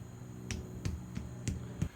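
A hammer tapping a cheap practice Damascus billet of 11 layers: five sharp, evenly spaced strikes, each short and crisp, close by with no voices.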